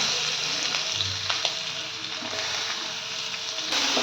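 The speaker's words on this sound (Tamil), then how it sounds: "ஆனியன் நல்லா வதங்கிடுச்சு." Onions sauté in hot oil with fennel seeds and curry leaves for a viral (snakehead) fish curry. A steady close sizzle and crackle runs throughout, with faint stirring scrapes.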